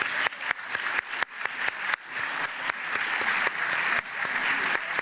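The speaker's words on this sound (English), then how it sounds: "let's give her a round of applause." Steady applause from an indoor audience at a school district recognition ceremony, continuous dense clapping with sharp individual claps standing out throughout, fairly loud and close.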